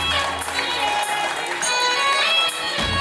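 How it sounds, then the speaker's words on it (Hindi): An audience at a wedding event claps for the fathers, giving a dense, steady applause that carries through the whole moment, with music playing along. "एक बार जोरदार तालियां हो जाए अपने पिता के लिए।"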